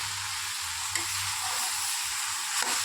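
Masala and salt stirred into vegetables in a hot pan, a steady broadband sizzle with soft scraping stir strokes and a couple of faint utensil taps, close and continuous, with no talking.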